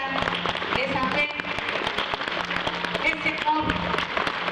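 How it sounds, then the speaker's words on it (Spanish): Audience applause for the participants of Holy Thursday observances during a Holy Week gathering in Texcalac, a steady dense clatter of clapping that runs throughout the clip. "Un fuerte aplauso para todos ellos"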